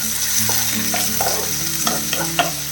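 Chopped onions with green chillies frying in oil in a pan for poha upma, a steady close sizzle broken by several sharp stirring scrapes and clinks.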